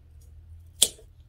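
Scissors snip through a Walkeriana orchid plant in one sharp, close cut, preceded and followed by quiet room hum.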